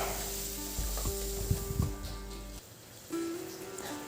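Tomatoes with salt sauté in a pan, a soft frying hiss broken by a few clattering stirs of a utensil, with a low background hum and a brief dip in level.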